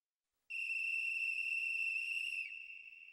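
A single sustained, pure-toned whistle starts abruptly and holds steadily loud for about two seconds before dipping and trailing off, with near silence around it.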